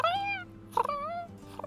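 A cat meows in a video game, two clear rising-and-falling calls near the start and middle with a shorter one at the end, over a steady low electronic hum.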